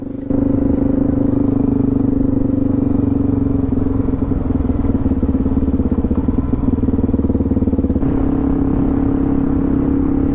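A 2021 Suzuki DRZ400 dirt bike rides off road at a steady, unhurried pace, its engine a loud, constant low drone close to the mic, with no talk.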